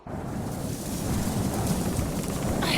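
Wind blowing steadily, a broad hissing rush that swells after a brief quiet start and holds at a moderate, even level with no voices.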